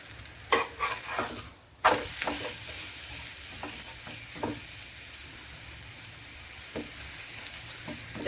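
A ragi roti cooks on an oiled pan with a steady close sizzle, a few sharp taps and scrapes early on, and a brief drop in the frying noise near two seconds.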